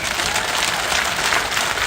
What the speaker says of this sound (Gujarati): 2 હાથથી તાળીઓ પાડી કહો મને